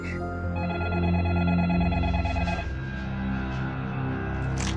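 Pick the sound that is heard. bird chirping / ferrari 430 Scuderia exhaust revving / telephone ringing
telephone ringing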